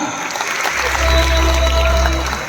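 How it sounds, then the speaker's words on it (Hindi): Audience clapping at a product launch during a Ramada hotel's 15th anniversary event, a brief burst of applause under a low, loud hum from the venue sound system. "एक जोरदार तालियां सबके लिए, जबरदस्त ताली दोस्तों, बेहतरीन तालियां"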